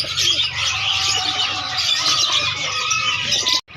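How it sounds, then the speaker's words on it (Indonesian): A puter ladino dove coos at a bird hobby market in Makassar, its soft calls mixed with bright, high chirping from other birds that carries on steadily and nearby until a sudden break near the end. "Ini teman puter ladino."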